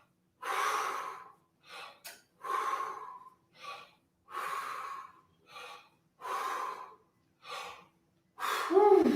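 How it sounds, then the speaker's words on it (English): A person takes a series of deep, audible breaths during a vocal warm-up, about nine sharp inhales and exhales in a steady rhythm, close and fairly loud with no talking over them. "just keep breathing, keep breathing"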